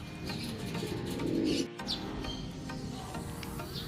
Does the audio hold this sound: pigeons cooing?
yes